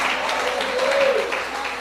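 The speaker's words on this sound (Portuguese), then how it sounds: "Aplauda o Senhor por seu melhor." A church congregation claps in praise of the Lord, a thick, steady wash of applause with a faint tone running through the middle of the burst.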